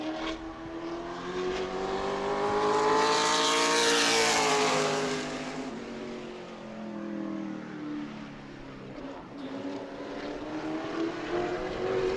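A modified race car on a qualifying lap at New Smyrna roars past, its engine note rising and falling in pitch as it approaches, passes, and recedes around the track, loud and sustained with no talking.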